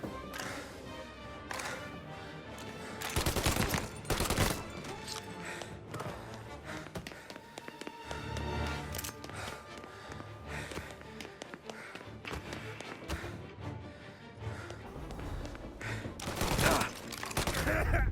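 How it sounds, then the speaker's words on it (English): Gunfire in Mafia: Definitive Edition, a 1938 gangster shootout, with bursts of shots and thuds rising and falling over a continuous game soundtrack, loudest near the start and end. "A lucky shot, Tom."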